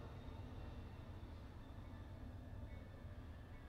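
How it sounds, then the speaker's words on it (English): Amtrak train passing outside an open window, heard as a steady, broad rumbling roar that stays even and moderately distant for the whole stretch, with no talking. "Okay, there's a train going by."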